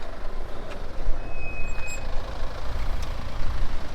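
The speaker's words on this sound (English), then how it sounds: "A lot of cars everywhere, so let's see, just wait for them to go by." Heavy street traffic near a football stadium in Stara Zagora, Bulgaria, with a truck-like engine rumble rolling past, a faint reversing beep and brake hiss, steady and fairly close.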